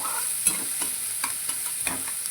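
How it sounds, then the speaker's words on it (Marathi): Onion fries in a pan for a whole masoor lentil curry, a bright continuous sizzle cut by a quick run of sharp spoon scrapes and stirs, close and fairly loud, with no voices. "छान गोल्डन रंग येईपर्यंत आपल्याला फ्राय करून घ्यायचा आहे"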